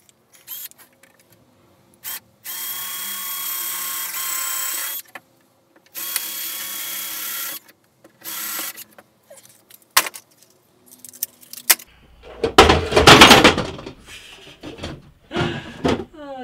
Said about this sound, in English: So let's re-drill them.